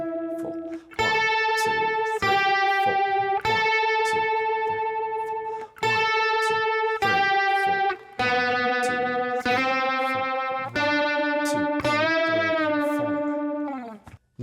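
Electric guitar through a phaser pedal playing the pre-chorus of a song, a sequence of sustained strummed chords with short gaps between them, clear and alone.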